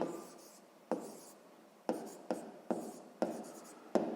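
A pen writes numbers on paper for a sixth-grade math exercise. Six or seven short scratchy strokes sound up close, each starting with a sharp tap and fading quickly, with a quiet background between them.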